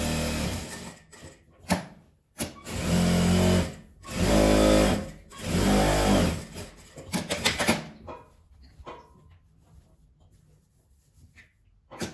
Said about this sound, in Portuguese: Eu vou começar a costurar, deixar uma abertura para encher e dar a volta costurando a minha peça